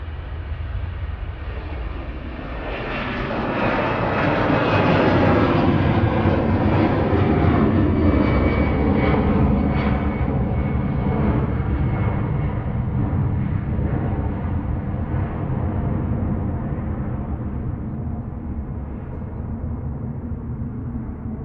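An EasyJet Airbus A320neo jet at Manchester Airport, bound for Nice, gives a loud, broad engine roar that swells, holds, then tapers gradually, close and alone.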